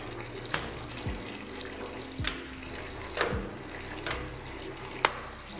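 Warm water running steadily from a tap at a low level to soak plywood, with a few small knocks and clunks punctuating the flow.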